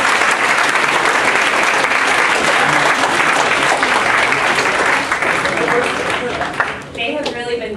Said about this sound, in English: Can I have a quick round of applause for this amazing panel?